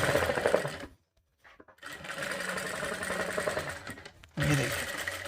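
A sewing machine bastes a katori blouse, running in a loud, close whirring burst, pausing briefly, then continuing in a long steady run with a louder restart near the end.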